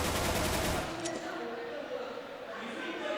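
Gunfire in Counter-Strike on de_nuke during a professional match. A dense burst of rapid shots rings out at the start, then fades into quieter background game noise.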